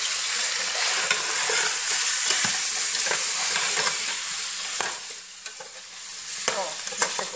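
Onion sizzling in a pan with garlic and salt while suã with vegetables is cooked, a steady loud frying hiss with occasional stirring scrapes and pops, close up and without talk.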